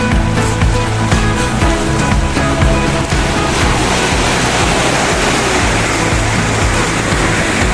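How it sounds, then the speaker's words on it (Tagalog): Loud, continuous roar of ocean waves crashing and surging by a sea cave at low tide, dense and rumbling with no pauses. "Nahampas yung malaking alon diyan."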